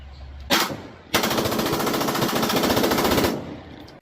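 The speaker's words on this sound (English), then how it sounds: "If you want your Glock to shoot fast" A Glock with an active reset trigger fires: a single close shot, then a fast continuous burst lasting about two seconds, loud and sharp, with no talking.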